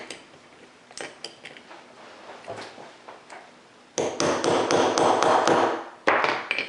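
A small punch is tapped with a hammer to drive out a trigger roll pin: scattered light taps at first, then a dense run of sharper, louder metallic strikes, close up.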